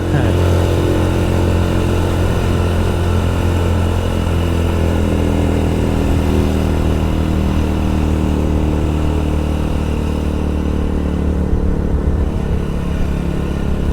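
A Honda Supra X 100 motorcycle engine accelerating on a mountain road, a loud, steady, close-up drone with strong low harmonics that holds throughout without voices over it.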